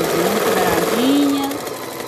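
A domestic sewing machine backstitches microfiber fabric on a plush capybara toy, giving a short steady motor whir whose pitch climbs briefly midway and then settles, close and moderately loud.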